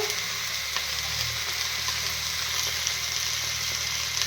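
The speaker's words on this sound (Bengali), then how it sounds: "সামান্য একটু জল দিয়ে তরকারিটা কষিয়ে নেবো।" Curry sizzling steadily in a hot pan as it is sautéed, a dense continuous frying hiss with faint stirring, close and fairly quiet, no voices.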